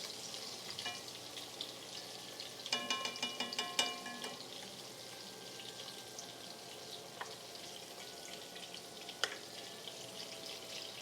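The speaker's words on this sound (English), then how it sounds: "Oh, I was here for the sizzling. The sizzling ASMR." A cast iron pan running too hot on an induction cooktop sizzles softly and steadily in the background, with a cluster of sharper crackles and clinks early on and a few isolated pops later.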